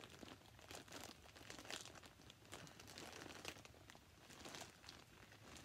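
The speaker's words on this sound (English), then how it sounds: "I cannot figure out how to get in the bag, so I'm going to rip it" A plastic bag holding yarn is ripped open by hand, with continuous soft crinkling and tearing close by at low volume.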